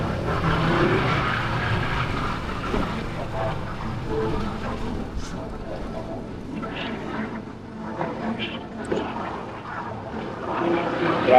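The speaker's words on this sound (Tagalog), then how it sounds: "Grabe naman yung traffic ito." Road traffic in heavy congestion, a continuous rumbling wash of vehicle engines and passing cars with swells and dips, fairly close, with faint voices now and then.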